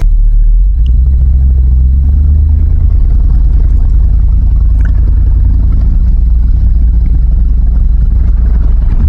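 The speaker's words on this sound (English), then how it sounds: "Got all four tires spinning." A truck stuck in wet mud with all four tires spinning produces a loud, continuous engine roar over a heavy low rumble, close by, with no talking.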